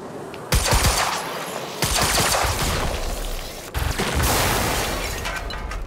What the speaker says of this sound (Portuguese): Três tiros suficiente pra fazer um carro explodir